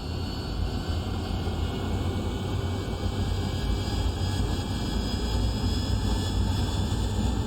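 AV-8B Harrier jet engine in DCS World spooling up for takeoff, a steady, dense roar with a faint high whine holding level throughout, no voices.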